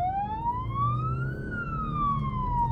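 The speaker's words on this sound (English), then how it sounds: "yelp siren on then." A police yelp siren wails in a slow rising and falling sweep over a low rumble of traffic, loud and steady throughout.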